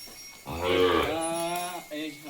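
Cattle in a cowshed at a farm: one cow lets out a long, clear moo close by, followed by a quieter low call.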